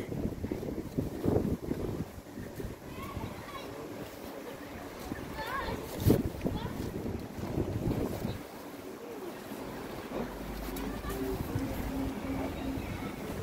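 Gusty, cold wind in Busan buffets the microphone in a steady rushing roar, with water and waves faintly beneath and people talking intermittently over it.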